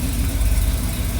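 A classic muscle car engine idles steadily while warming up after months unused, a loud close low rumble with an even, pulsing throb.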